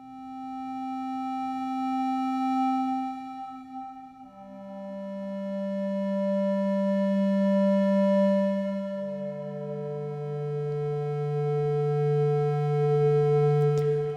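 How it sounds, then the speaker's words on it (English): A string-like synthesizer patch in Ableton Drift with a slow attack plays three sustained, harmonically rich notes that swell in gradually and step downward in pitch, clean and steady with no talk. "you can make some kind of string sounds if you use the oscillator and some slow attack"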